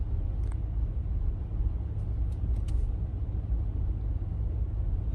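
Passing cars on a flooded road near a Lake Erie campground, a steady low rumble of tires and engines going by, moderately distant with faint high clicks and no talking.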